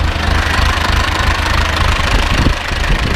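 An Ursus C-360 tractor engine runs steadily after a cold start, a loud, close, continuous low knocking idle with no break and no talking.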